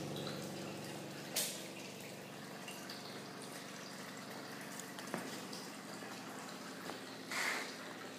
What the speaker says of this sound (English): This material is a little more damp, so I just barely have this water dripping out of here right now.